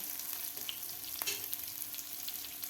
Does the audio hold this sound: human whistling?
no